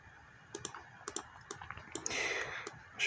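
Computer keyboard keys click in short bursts of shortcut presses, close and crisp, with brief pauses between taps and a faint scratchy rustle near the end.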